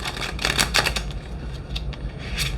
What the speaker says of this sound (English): let's shuffle it a few more times